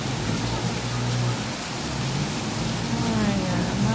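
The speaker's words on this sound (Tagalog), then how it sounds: "Diba, ang lakas ng ulan." Heavy rain pours down in a steady, dense hiss that stays loud and unbroken throughout, with a low rumble underneath and no clear pauses.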